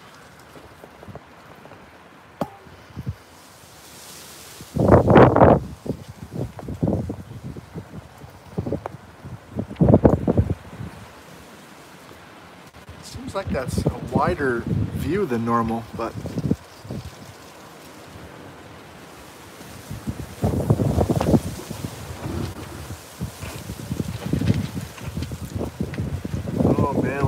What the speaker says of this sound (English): we've got gusts up to 30 miles an hour on occasion.